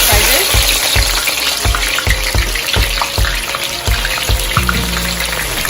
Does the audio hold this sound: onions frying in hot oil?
yes